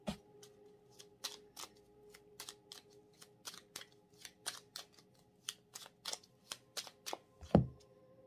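Tarot cards are shuffled up close in a soft, steady patter of crisp flicks and riffles repeating for several seconds, ending with a duller thump.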